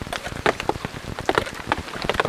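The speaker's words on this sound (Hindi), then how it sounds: "बारिश लगातार हो रही है और एक भी मिनट नहीं रुक रही बारिश।" Heavy, nonstop rain drums on a bushcraft survival shelter, with dense close patter and sharper individual drops hitting the roof, loud and steady with no talk.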